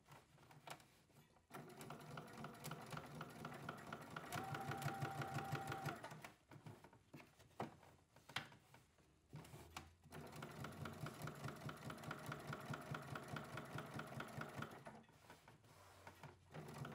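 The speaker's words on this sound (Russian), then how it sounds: "и проложу декоративную строчку, отступая от края около 3 мм по детали дна" A sewing machine stitches a decorative seam along the bottom panel of a backpack, running in long steady buzzing bursts separated by short pauses, close and clear, with no talk.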